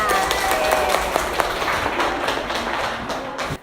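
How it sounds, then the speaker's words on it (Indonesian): Classroom students clapping together for their class, a dense burst of many small hands with sharp individual claps standing out, fairly close and lasting a few seconds. "Tepuk tangan untuk kalian semua."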